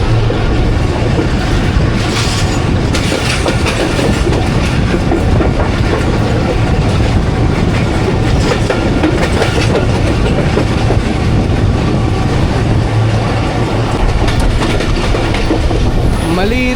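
Hazara Express passenger train running on rails past a junction in Karachi, Pakistan: a loud, steady onboard rumble with continuous wheel clatter and rattling throughout.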